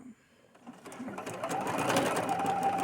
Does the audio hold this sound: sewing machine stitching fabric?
yes